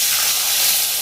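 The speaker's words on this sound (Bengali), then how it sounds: "এখন দিয়ে দেবো এখানে আমি একটু জল" Water poured into hot oil with tempering spices and slit green chillies for dhokla, a loud, steady sizzling hiss that fills the short moment.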